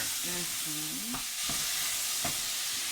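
Tomatoes being stirred into a simmering Kenyan stew in a pan, with a steady frying sizzle and a few scraping stirs of the spoon, heard up close without talk.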